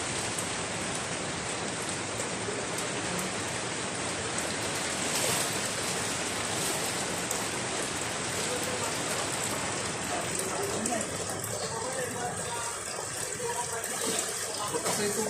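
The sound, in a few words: heavy rain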